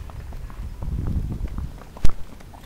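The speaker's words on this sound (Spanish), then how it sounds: "Este es mi caballo" A dun horse walks, its hooves clip-clopping in an uneven, close rhythm, with one sharper knock near the end and faint background noise, no speech.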